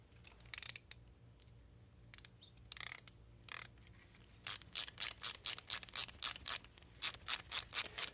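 An idle stop screw is turned back into a carburetor, giving quick, close, rhythmic clicking ticks in bursts that become a steady, evenly spaced run of crisp clicks in the second half.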